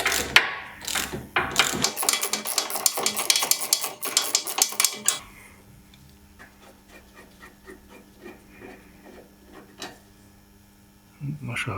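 A ratchet wrench loosens a seized stabilizer link nut on a car, held from the back with locking pliers after a penetrating spray. Fast, close clicking runs for about five seconds, then softer scattered clicks follow.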